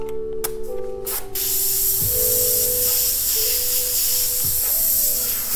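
Airbrush spraying white paint onto a T-shirt, a loud, steady hiss of air broken by a few short clicks and pauses as the trigger is worked, with no talking.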